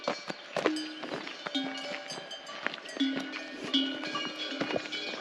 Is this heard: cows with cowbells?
yes